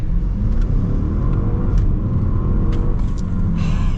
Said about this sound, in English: So we're gonna get an acceleration here at the A8.